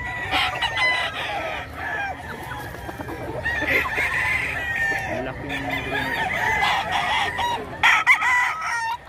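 Several gamecocks crow over one another in a noisy market yard full of clucking fowl in Bocaue, Bulacan, with faint voices in the background.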